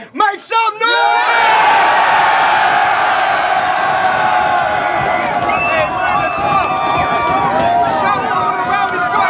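Large crowd at a rap battle event in Edinburgh roaring, whooping and cheering loudly and continuously, with shouts and whistles rising above the din after an MC's call.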